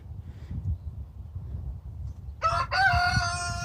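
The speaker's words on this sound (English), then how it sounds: "the chickens are coming over and hanging out in the hay" Low rustling and scuffling of chickens in hay on a farm fills the background, then a rooster lets out a loud, drawn-out crow close by.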